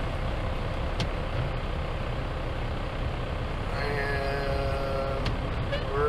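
Vehicle engines rumble steadily in a California traffic jam, a constant low drone with a brief hiss like an air brake and a faint higher tonal whine partway through.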